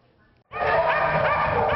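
Many dogs bark and yip together at a large warehouse housing up to 200 dogs, a loud overlapping chorus that starts suddenly after a faint, quiet lead-in.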